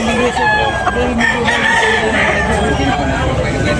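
Roosters crow repeatedly at a chicken market in Tabunok, Talisay, Cebu, with loud overlapping calls and clucking close by over a babble of crowd noise.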